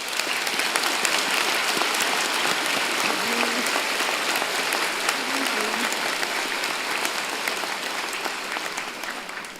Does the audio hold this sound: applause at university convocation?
yes